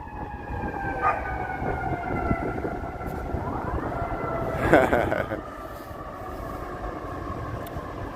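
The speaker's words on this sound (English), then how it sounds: "Here comes some sirens." A siren wails faintly in the distance with rising and falling tones, over steady downtown Chicago street traffic noise, with a brief louder burst midway.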